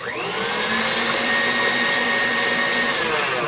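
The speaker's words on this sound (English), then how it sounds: "we're mixing that till it's just combined" An electric mixer beats peanut butter cookie dough in a bowl, a steady close whirring hum held evenly for a few seconds with no speech.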